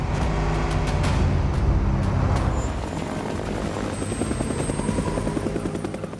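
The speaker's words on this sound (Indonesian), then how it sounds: "Tapi si pilot helikopter pun malah menembaki Dido yang membuatnya tersangkut" Helicopter in an action film scene, a loud steady rotor thump and engine roar throughout, close and dominant, easing slightly partway with a faint whine above.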